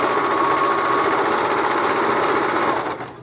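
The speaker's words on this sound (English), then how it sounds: "let's go to the sewing machine. I'm going to serge all the way around," A serger hums at a fast, steady whir for about three seconds, loud and close, sewing white cotton fabric, then winds down and stops.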